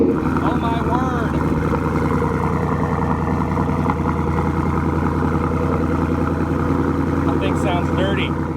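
A loud, rough engine with an off-road exhaust rumbles steadily up close with a deep, throaty exhaust note, and people talk over it.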